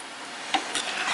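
A spoon stirs cooked lentils into sambar in a pot, with close, wet scraping strokes over a faint sizzle and no talking.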